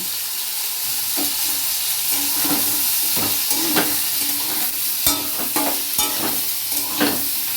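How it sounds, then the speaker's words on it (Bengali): Squeezed soybean chunks sauté together in a hot pan, a continuous sizzle broken by repeated sharp scraping strokes of a spatula stirring close by. "সব একসাথে এগুলোকে আমি কষবো।"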